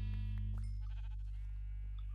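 Sheep in a video game bleat repeatedly in short, wavering calls over a loud steady low hum, several overlapping bleats close together.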